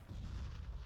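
A grenade goes off in a professional Counter-Strike match between X-Kom and Pride Gaming, heard as a brief, muffled, low boom with a short rumbling tail, fairly faint and distant.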